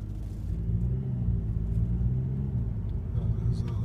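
A Skoda Superb with a start/stop issue pulls away, its engine a low, steady rumble close by that rises slightly as the car moves off.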